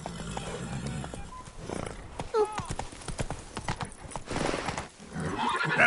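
A horse in The Witcher 3 video game gallops with fast, steady clip-clop hoofbeats and lets out a whinny partway through, heard close and loud.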